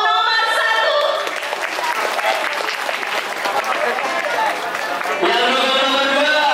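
An audience of students at a school council candidate debate applauds for candidate pair number 1, with steady clapping throughout and voices and an amplified speaker over the top at the start and end.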